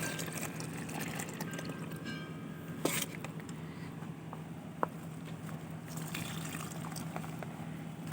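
Water being poured onto a potted plant as a tonic, a faint steady trickle and splash that continues throughout with a couple of small knocks.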